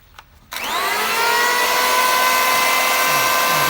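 Bosch GHO 10-82 electric planer switching on after a moment of quiet and spinning up to a loud, steady, high whine that holds close and constant, with no talking.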